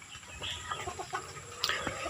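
Labuyo junglefowl crossbreed chicken clucking nearby, a few soft short clucks over a quiet background.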